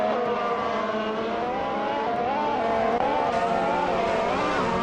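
A 2014 Sauber C33 Formula One car in a racing video game, its high-pitched engine whining continuously at close range and rising and falling with gear changes.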